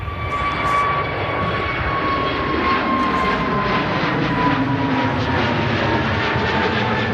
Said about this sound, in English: EasyJet just departing.